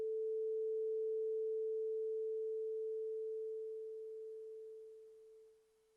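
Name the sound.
test tone with mic phase flipped, moving microphone toward cancellation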